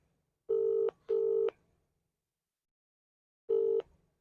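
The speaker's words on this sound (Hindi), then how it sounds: "दर्शकों, जेई साहब के पास जो है अभी घंटी गई हुई है" Ringback tone of an outgoing phone call to an official: two long electronic tone bursts in quick succession, a pause of about two seconds, then a third burst, clear and close with no talk.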